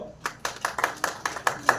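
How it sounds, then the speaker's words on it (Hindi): An audience at a university expert talk in Indore claps for a student in a light, sparse pattern of about seven distinct hand claps at a steady rhythm, fairly quiet and without talk. "वेरी गुड, इस लड़की के लिए ताली बजाओ।"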